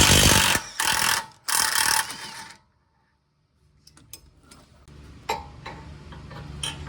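Ratchet and socket turning a 15 mm nut on the lower control arm of a 2005 Mustang 4.0 with a broken ball joint, loud rapid clicking bursts, then a pause and quieter scattered metallic ticks and clanks nearby.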